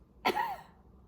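A single short cough, close and fairly soft, in an otherwise quiet room.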